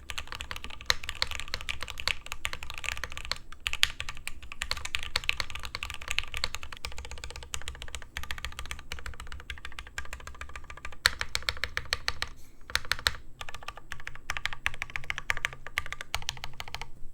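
A mechanical keyboard, before a force break mod, is typed on steadily in rapid clicky keystrokes with occasional heavier bottom-outs, close and fairly quiet, with no talking.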